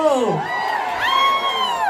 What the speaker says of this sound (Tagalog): Lakasan niyo po ang inyong hiyawan.